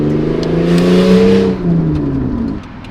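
A 1999 Toyota Camry engine revving hard, a steady loud drone rising and falling in pitch with a rough, throaty tone, continuous throughout.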